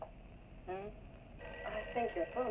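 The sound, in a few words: telephone ringing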